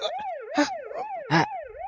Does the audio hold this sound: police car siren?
yes